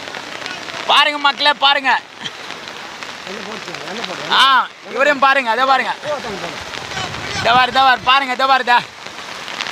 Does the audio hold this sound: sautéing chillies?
no